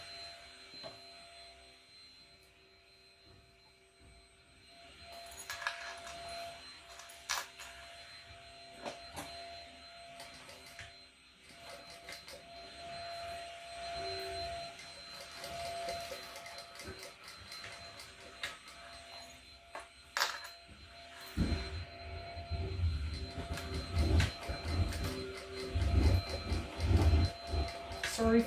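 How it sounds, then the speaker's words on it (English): A vacuum cleaner runs somewhere in a sewing room with a steady whirring drone that swells and shifts over time, growing louder and rougher toward the end, with occasional clicks. "It's a vacuum."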